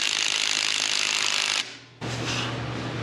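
A ratchet tightens bolts on the arm of an off-road hot rod with a dense, fast clicking that runs steadily up close, pauses briefly, then resumes just as loud.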